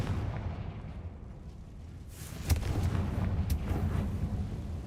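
A Confringo blasting spell from Hogwarts Legacy fires and explodes, giving a sharp crack followed by a rumbling burst over a low, continuous game background, with a couple of further sharp impacts after it.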